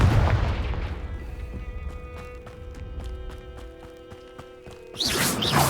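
A Confringo spell explosion in Hogwarts Legacy opens with a loud blast that decays into rumble, followed by quieter rhythmic ticking and tonal game effects before a bright burst at the end.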